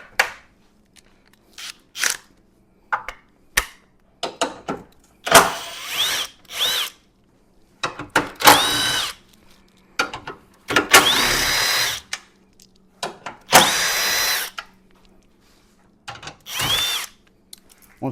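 Power drill spinning out 10mm bolts on a 2021 Chevy Silverado, heard as a run of short, close whirring bursts of varying length with brief pauses between them and faint clanks.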